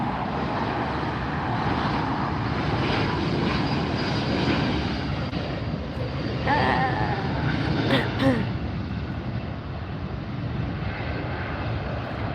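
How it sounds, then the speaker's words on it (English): A Delta airliner departs LAX, its jet engines roaring as a broad, steady rumble throughout, with light traffic noise around. "We're going to see a Delta flight go out here."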